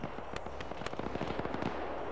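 A burst of sharp explosive cracks and rapid gunfire-like pops from a war video game, an anti-tank weapon going off amid dense, loud combat noise with no talking.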